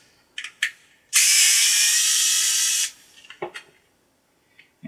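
A screwdriver backs out screws holding fans in a Supermicro server chassis, a couple of quick clicks, then a sustained high whirring buzz of nearly two seconds, followed by scattered small clicks and taps, close and clear.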